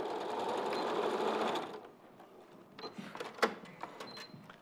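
A sewing machine stitches a short seam along the crotch and gusset line of a pair of pants, a fast, steady whir for a couple of seconds that then stops, leaving faint scattered clicks and handling sounds.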